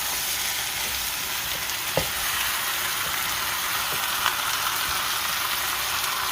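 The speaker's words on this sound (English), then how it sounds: "I like to let my seasoning just kind of burn with the meat a little bit" Chicken pieces with Jamaican curry seasoning and onion fry in a pot, giving a dense, unbroken sizzle close up, with a couple of faint clicks of a utensil and no voices.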